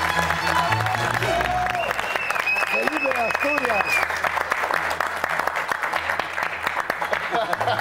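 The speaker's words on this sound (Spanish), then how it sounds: "¡Un aplauso para él!" Studio audience applause for a guest on a Mexican comedy talk show, loud sustained clapping and cheering throughout, with a voice shouting over the crowd near the start.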